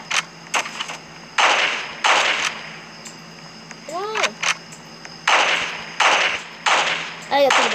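Gunfire in a video game, several sharp bursts of shots spread across the stretch, loud and close, with brief whistling effects between them and people talking and shouting over the action.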